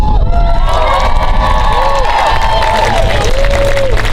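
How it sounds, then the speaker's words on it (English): A large crowd at a Virginia political event with Governor Ralph Northam cheers loudly and continuously, with shouts and scattered clapping blending into a dense, steady roar. "we're going to give a round of applause"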